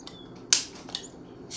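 A Bass Pale Ale bottle is cracked open, giving a sharp close hiss-click of the cap releasing followed by a smaller click and a brief fizz, with no talking.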